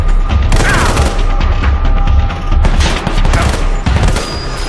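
Sniper gunfire in the Sniper Fury shooting video game: loud, dense bursts of shots and booming impacts packed over a continuous roar of game noise, with no voices.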